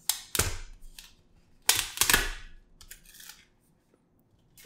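An SBI Cashback credit card package is opened to remove the cards, giving a few sharp close tearing and snapping bursts of paper and plastic separated by quiet pauses.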